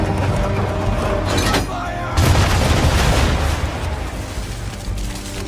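Heavy naval cannon fire in Assassin's Creed III, with dense booming blasts and rumbling broadside volleys that build to a louder surge midway, layered under game speech.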